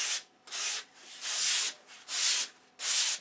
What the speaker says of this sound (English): So now I got it on a sanding block